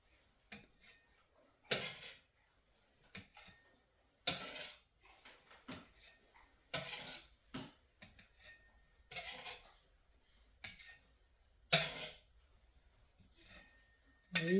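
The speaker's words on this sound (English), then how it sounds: "All right, we're scooping them off." A spatula scooping baked chocolate chip cookies off a metal baking sheet, a series of irregular scraping clinks and metallic scrapes spaced a second or two apart, close up, with quiet pauses between.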